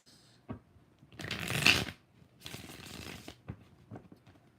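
Tarot cards are shuffled close up in two quick riffling bursts, with soft taps and handling clicks before, between and after.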